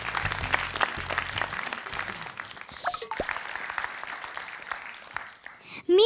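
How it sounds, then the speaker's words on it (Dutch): Audience clapping for a child performer at a Limburg recitation contest final, a sustained round of applause that runs for several seconds and slowly thins out toward the end. "Nou, applaus voor zichzelf."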